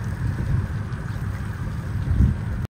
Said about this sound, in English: you can hear the water spewing out of the side of the boat